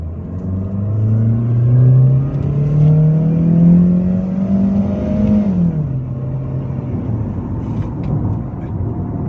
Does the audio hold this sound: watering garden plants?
no